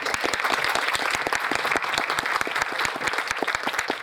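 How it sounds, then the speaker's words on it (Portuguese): A congregation at Mass in the Capela Mãe Rainha welcomes Dom Antônio with crisp, lively applause, many distinct hand claps continuing steadily and fairly close for the whole stretch. "acolhemos hoje Dom Antônio com muita alegria e uma salva de palmas"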